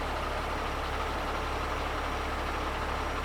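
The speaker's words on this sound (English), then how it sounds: "that right there is the guy's tractor with the good chassis" A semi-truck tractor idling nearby, a steady low diesel rumble with an even hum and no changes in pace.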